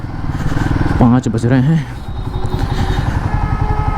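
A Guerilla 450 motorcycle on a long test ride through traffic, its engine note continuous and fairly close with a short revving surge in the middle, while someone speaks over it.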